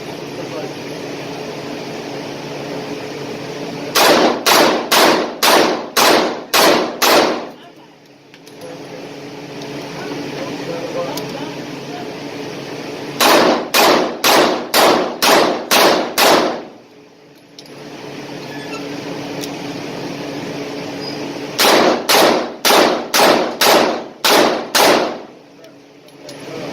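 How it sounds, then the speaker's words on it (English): Three rapid strings of seven gunshots each, 21 rounds fired at a target 7 yards away, sharp and close, with quiet pauses between strings for reloading under a low background hum. "Considering how rapid fire that was at 7 yards, 21 rounds in a row"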